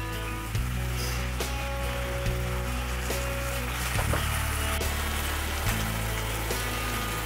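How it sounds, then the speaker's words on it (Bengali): Chopped onions frying in soybean oil in a frying pan, a steady close sizzle with a few soft clatters. "এখন পেঁয়াজটা বাদামি করে ভেজে নেব।"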